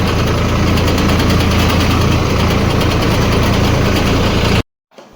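A tractor engine idles close by with a steady, heavy low rumble and continuous vibration for about four and a half seconds, then cuts off abruptly into near silence.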